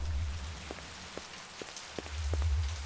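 Steady rain falls in a 1997 sci-fi detective game's street, a soft wash over low background hum with several distinct drips and taps landing at irregular intervals.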